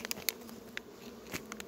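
Bees caught in a closed pocket buzz faintly and close by, short sharp bursts of whining wings over a quiet background.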